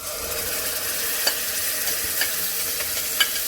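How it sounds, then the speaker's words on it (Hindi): Onions sauté in hot oil for a chicken pulao, giving a steady close sizzle with a few light stirring clicks and no talking. "इसी ऑयल में अनियन ऐड करके इसको थोड़ा सा सोते करूँगी"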